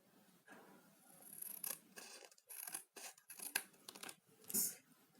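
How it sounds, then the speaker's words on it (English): Scissors cut through paper or card for a craft, a series of close, crisp snips and rustling slices in an uneven rhythm, with no voices. "Take the scissors."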